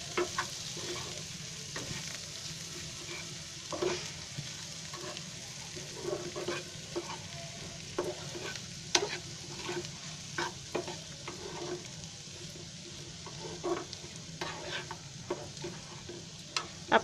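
Egg sabzi stirred and frying in a pan: a soft continuous sizzle with irregular scraping and clinking strokes of a spoon against the pan, close and fairly quiet.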